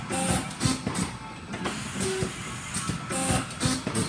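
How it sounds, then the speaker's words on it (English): An industrial conveyor on a bag packaging line in test mode rattles and clatters with repeated mechanical knocks and hiss, running steadily and close. "this conveyor is just running in its single mode that just runs the bags out."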